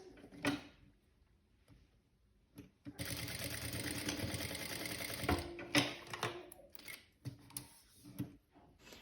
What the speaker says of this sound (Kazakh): Осы жерін қосып тігіп аламыз.